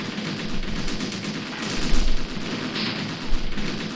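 Barrage of booming shots in a Graviteam Tactics battle during the Soviet-Afghan War, from primitive anti-tank guns amid other weapons fire, a dense roar with several heavier thumps standing out, no voices.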